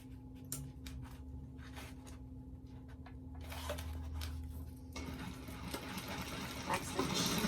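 Sewing machine back stitching the seam of a Nora doctor bag, a quiet steady mechanical whir running throughout, growing slightly louder and busier toward the end.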